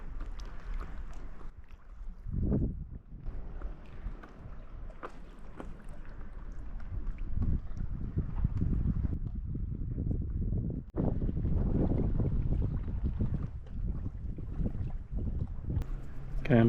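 Wind gusts buffet the microphone while paddleboarding through a gorge, low rumbling bursts rising and falling irregularly, mixed with faint water splashes and occasional voice.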